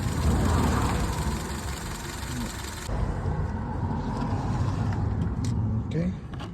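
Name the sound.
2007 Honda Civic 1.8 engine idling with cylinder 4 misfire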